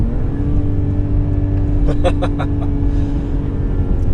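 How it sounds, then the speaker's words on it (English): A 2022 Mercedes GLS 450 SUV engine hums steadily and loudly while accelerating, with a brief burst of higher-pitched mechanical clatter partway through. "The engine itself sounds really good"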